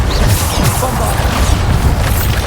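A Bombarda blasting spell detonates in Hogwarts Legacy, a loud, dense roar of explosive crashes and rumbling debris that fills the whole stretch without pause, with a faint voice mixed into the din.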